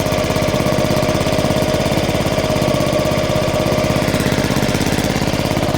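A Honda Forza 125 scooter engine runs steadily with a leaking exhaust holed near the O2 sensor, giving a rapid, even, raspy putter that stays loud and close without pause.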